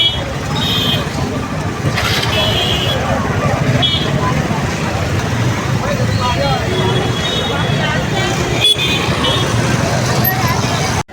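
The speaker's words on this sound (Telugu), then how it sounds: "చూడండి ఎంత ట్రాఫిక్ ఉందో" Busy town street traffic with steady engine rumble and road noise close by, a few horn toots rising over the din, and people talking in the background.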